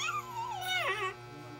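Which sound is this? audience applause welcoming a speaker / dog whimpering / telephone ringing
dog whimpering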